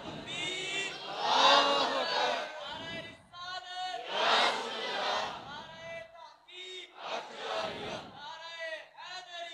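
A crowd at a religious turban-tying and certificate ceremony for Quran memorisers chants slogans in loud call-and-response bursts, with three or four big collective shouts separated by brief pauses.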